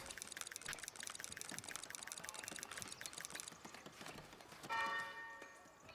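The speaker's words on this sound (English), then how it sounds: "The church is belling again." In the video game Foundation, a regular rapid clatter of hoof-like clops, then a church bell in a bell tower rings out with a ringing tone that lingers and fades.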